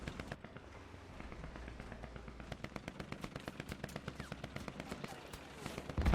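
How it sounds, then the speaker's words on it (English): A .50 cal machine gun fires in War Thunder during a realistic-mode tank battle involving an M26. A long, evenly paced stream of rapid shots sounds somewhat distant and moderately quiet, with a louder burst at the very end. "I can hear a 50 cal,"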